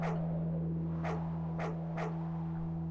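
A dog in a video game gives about four short yelps or barks at a steady pace, standing out over a constant low electronic hum and game background tones.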